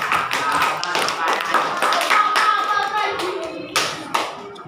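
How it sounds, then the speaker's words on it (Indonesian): Students in an Indonesian classroom clap for a classmate named Alfa, a few seconds of close, uneven hand claps from a small group that trail off with scattered final taps. "tepuk tangan buat Alfa"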